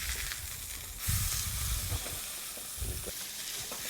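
A burger patty fries in a pan with a steady, close, bright sizzle and occasional soft low bumps of the pan being handled.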